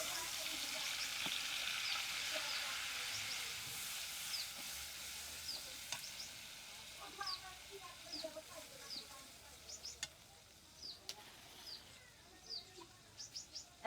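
A paste of onion, green chili and cumin sizzles in hot oil mixed with oil left from frying fish, a steady hiss that softens over time while chickens cluck in the background.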